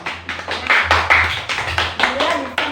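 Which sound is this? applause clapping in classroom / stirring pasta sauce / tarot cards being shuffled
applause clapping in classroom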